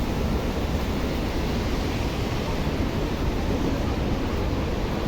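Continuous loud roar of rough sea surf and wind after rain at a waterfront boardwalk in North Point, Hong Kong, a dense unbroken wash of noise with no distinct breaks.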